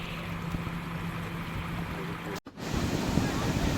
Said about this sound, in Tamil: வெள்ளம் திறந்து விடப்பட்டு தண்ணி வந்து மேலதிக தண்ணி வந்து இப்போ கடலுக்கு போய் கொண்டிருக்குது.